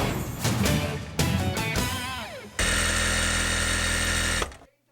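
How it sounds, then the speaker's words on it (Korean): Sewing machines hum steadily in a sheltered workshop for people with disabilities in Yongsan-gu, Seoul, with uneven mechanical whirring at first, then a loud continuous run that stops abruptly near the end. "재봉틀 작업이 한창입니다."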